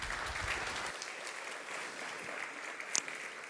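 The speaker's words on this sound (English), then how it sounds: "please give a very warm applause for Tom, who's come here all the way from Vienna to speak with us today." Conference audience giving warm applause for a speaker at a net neutrality talk, steady moderate clapping from a mid-sized room, a brief low rumble at the start and a sharp knock near the end.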